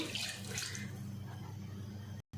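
Water is poured into a pot of beef for nihari in a pressure cooker, a continuous soft splashing and gurgling that stays even and quiet before stopping abruptly.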